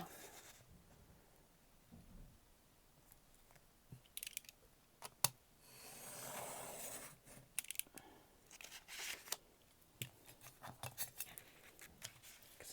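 Scissors cutting the top off a sheet of paper for a steampunk journal, scattered snips and paper rustles with a longer swishing cut in the middle, quiet and close.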